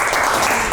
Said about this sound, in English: Can we give Kennedy a round of applause?